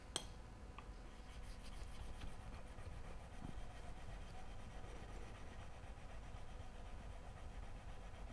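The back of a woodworking chisel being flattened on a sharpening surface gives a faint, continuous gritty rubbing and scraping at close range, with a few small clicks and no talking.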